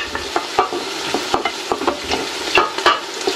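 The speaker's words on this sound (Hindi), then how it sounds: "अब हम इनको भूनेंगे अच्छी तरह से" Goat and beef trotters fry and get stirred in a pan with browned ginger and garlic, giving a steady close sizzle broken by repeated scraping clatters of the spoon, no voices.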